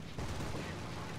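Autocannon fire from the FF cannons of a He 112 B-0 fighter in War Thunder, a dense, loud burst of rapid shots layered over steady engine drone across the whole moment.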